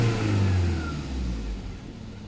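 A car engine revs up close as the gas pedal is pressed during an oil pressure warning check, a loud rising roar that eases back toward idle, with no talk over it.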